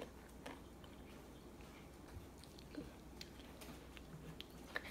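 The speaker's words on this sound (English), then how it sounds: "I'm going to eat a wasabi pea." Quiet, close crunching and clicking as a crisp wasabi-coated pea is chewed, a scatter of small irregular bites and ticks over a faint background, with no talking.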